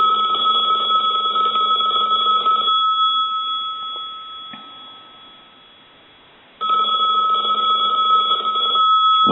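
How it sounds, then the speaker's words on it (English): An old rotary telephone under repair rings its bell, a loud steady metallic ringing that fades into a pause, then starts again loudly for a second ring. "We'll go ahead and ring this phone."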